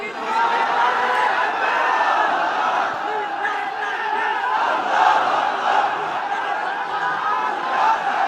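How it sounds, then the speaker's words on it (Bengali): A large crowd at a sermon answers with a sustained, loud collective shout of takbir, a dense, steady roar of many voices lasting the whole stretch. "তাকবীর দেন তো একজন আওয়াজ করে।"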